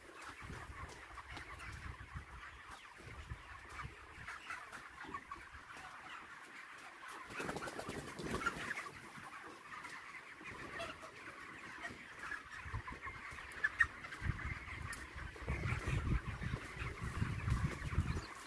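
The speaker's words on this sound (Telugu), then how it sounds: "ఎన్ని కోళ్ళు చూడండి, ఇక్కడ దాకుంది షెడ్," Many chickens cluck together inside a large poultry shed, a dense, steady din of overlapping calls that runs throughout at moderate, even loudness with no talking.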